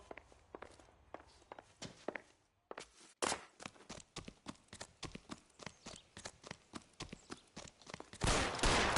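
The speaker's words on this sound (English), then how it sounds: "Shoot him. Shoot him, for God's sake." Rapid gunfire from a shootout in the crime game L.A. Noire, dozens of sharp repeated shots in a steady volley with running footsteps, building to a louder burst at the end.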